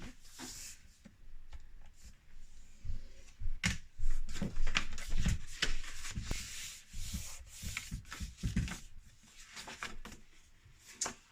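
Paper for a scrapbook album is folded and creased by hand, giving soft rubbing, sliding and pressing sounds in uneven bursts, close and fairly quiet.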